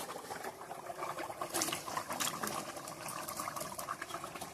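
Fish pieces go into a hot pan for a Bengali gular (cluster fig) curry, producing a dense, close, sputtering patter of crackling oil that swells briefly and continues steadily, with no voices.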